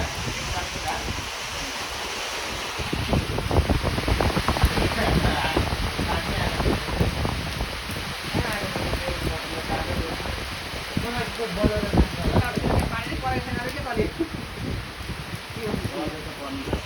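Monsoon rain falling steadily outdoors on a cold day, with a fire burning nearby, forms a continuous broadband hiss that runs beneath people talking throughout.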